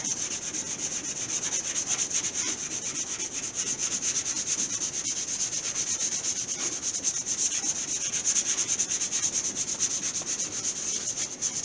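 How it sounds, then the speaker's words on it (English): Steady hand sanding of a car body with 150 grit sandpaper during spot rust repair on an AMC Gremlin, a continuous close scratchy rasp with quick back-and-forth strokes running without pause and no talking. "Got 150 grit sandpaper, and we're just going to go ahead and sand until the gray kind of disappears"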